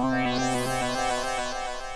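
Sustained synth chord with a delay effect switched on and made wetter by a foot pedal, the repeats sweeping and smearing into a rising, washing echo tail, alone and steady.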